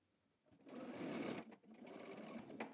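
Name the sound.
sewing machine stitching a jacket seam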